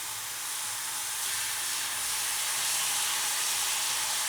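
Tomato added to a pan of browning pasta for sopa de munición, giving a steady, loud, broad sizzle and hiss that swells slightly and runs unbroken, with no voices.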